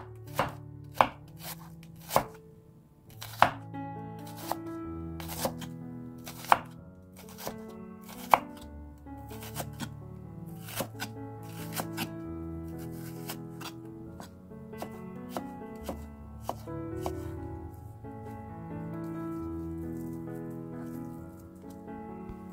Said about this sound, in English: this is how I like to cut my onions for my salads or sandwiches